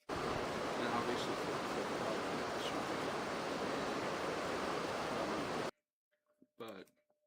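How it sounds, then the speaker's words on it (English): Steady broadband rush of a waterfall in a game scene, loud and continuous, then cutting off abruptly to near silence, followed by a short burst of voice. "I just created an audio source to generate a sound of the waterfall falling"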